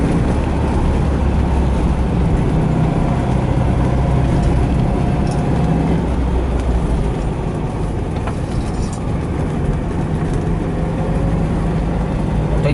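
A 1975 Volkswagen Fusca (Beetle) cruises smoothly in third gear. Its air-cooled engine hums at a steady, moderate pace under constant road and wind noise, with no talk.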